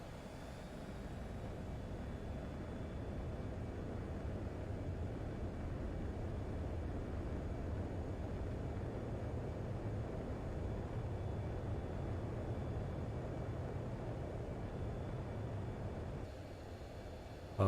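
A fighter jet's engines in Ace Combat 7 give a loud, continuous broadband roar during takeoff that holds steady for many seconds before dropping off abruptly near the end.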